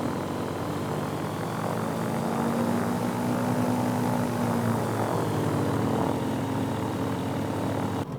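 Steady idling drone of a Blackwing BW 635RG light aircraft engine and propeller in MSFS 2020, a continuous low hum with a faint tonal whine, heard alone at constant loudness just after start-up.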